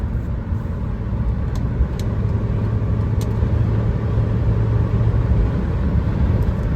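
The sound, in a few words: Mitsubishi Toppo BJ kei car accelerating at full throttle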